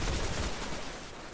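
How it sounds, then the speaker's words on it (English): Rapid scout rifle gunfire in the video game Destiny, a quick burst of dense shots at moderate loudness that trails off into noisy decay. "A scout rifle?"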